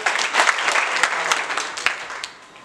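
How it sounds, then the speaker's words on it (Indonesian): Lively applause from an audience gathered for the Sultan of Deli's visit, with sharp individual claps standing out from the crowd before the sound tapers off toward the end. "tepuk tangan dong."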